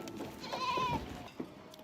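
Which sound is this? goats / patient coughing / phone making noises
goats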